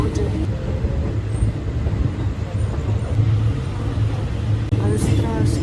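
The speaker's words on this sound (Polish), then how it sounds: "ja siedzę już w pociągu do Kambodży" Steady rumble and rattle inside a moving passenger train bound for Cambodia, heard from a seat in early morning, loud and continuous throughout with no pauses.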